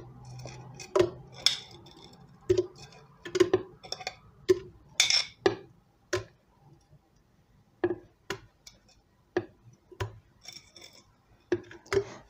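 Frozen pineapple slices dropped one by one into a blender bowl, giving a run of hard, close clicks and clunks spread through the stretch with brief quiet gaps between them.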